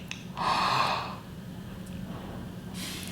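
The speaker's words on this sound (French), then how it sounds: "c'est essayer d'inspirer bouche ouverte" A single audible open-mouthed inhalation, a breathy gasp lasting about half a second, close to the listener in a quiet room, followed by faint breathing and a soft second breath at the end.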